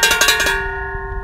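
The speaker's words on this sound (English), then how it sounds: "hopefully it makes a good bell and it's worth it." A bell made from a gas cylinder rings out with several quick strikes, then one clear tone hangs and slowly fades, bright and resonant.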